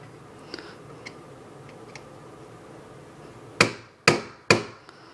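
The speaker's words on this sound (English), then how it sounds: "gonna hammer from this side again" Three sharp metallic hammer blows ring out close by in quick succession while a part is driven out of an airsoft M4 rifle, after a stretch of faint ticks and small taps.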